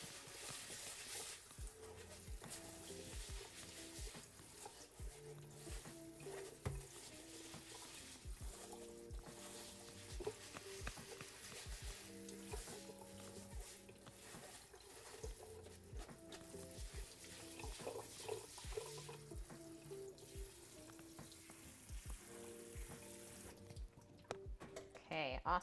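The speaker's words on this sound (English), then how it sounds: "I just kind of stir the rice around with my hands in the strainer as the water goes over it." Rice rinsed in a strainer under a running tap, a steady soft stream of water with hands stirring the grains, faint and continuous, with a voice talking over it.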